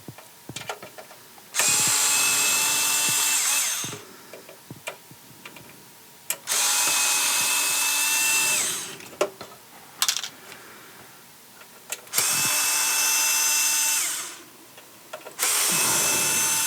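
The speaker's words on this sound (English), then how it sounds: "I also have to take off these screws on the XLRs." A power driver whines in three long, loud bursts while screws come out of the XLR connectors on audio equipment, with scattered clicks and handling noises between the runs.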